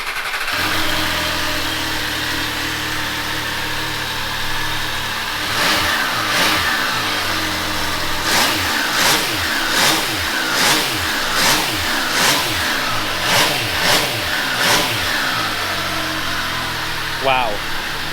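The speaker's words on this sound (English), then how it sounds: "Let's fire it up. Time to take a listen." An MV Agusta Turismo Veloce 800 Lusso motorcycle starts after a moment of background noise, then revs in a string of sharp, close throttle blips over its idle, with a person talking around it.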